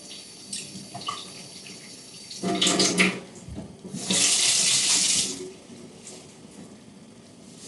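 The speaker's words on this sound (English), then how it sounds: "Let's just wash our hands." Water runs from a kitchen tap while hands are washed during meal prep, with two louder splashing bursts of flow over a soft, continuous background hiss.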